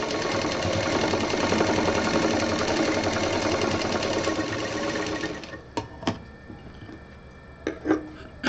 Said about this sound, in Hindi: ये जो किनारा है इसको पहले हम सिल लेंगे इस तरह से।